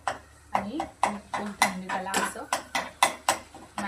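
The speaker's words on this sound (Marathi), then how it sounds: "हाय फ्लेमवरती त्याला कंटिन्यू स्टर करायचं" Brain masala stirred continuously in a pan over high flame, a spoon scraping and clinking against metal in a regular rhythm of sharp taps and scrapes, close by, with a voice speaking over it.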